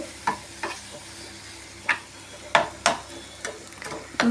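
Masala being stirred in a frying pan, with a utensil scraping and tapping the pan in irregular close strokes, a few sharper clinks standing out over a faint sizzle.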